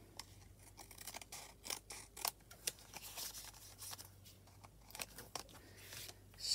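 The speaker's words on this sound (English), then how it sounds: "I'm going to cut that." Paper being cut with scissors while making a junk-journal envelope: a quick series of close, crisp snips and rustles, some faint, with no talking.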